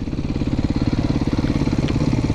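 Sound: motorcycle engine

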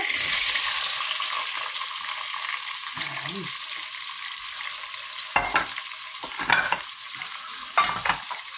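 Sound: onion frying in hot oil

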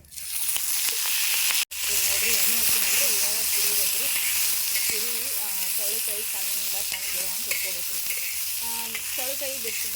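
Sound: cluster beans frying in oil, being stirred

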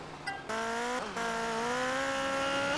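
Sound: car drifting with tire squeal in video game GTA Vice City Stories

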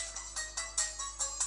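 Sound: phone timer alarm ringing

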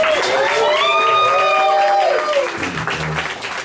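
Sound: audience applause and cheering for competitors

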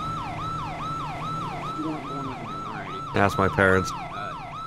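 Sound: police siren in a video game

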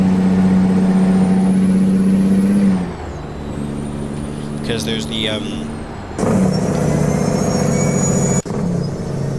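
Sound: Kenworth T800 truck engine with CAT ACERT, video game American Truck Simulator

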